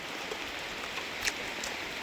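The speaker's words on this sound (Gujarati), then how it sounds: "અંદરાધાર વરસાદ પડે છે" Heavy rain pours steadily onto a main road, a dense, even hiss with scattered patters of drops throughout and no voices.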